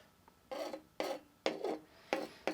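A Wusthof knife sharpener grinds steel off a blade in five quick rasping strokes, each a sharp scrape that starts abruptly and fades, close and fairly quiet with no talk.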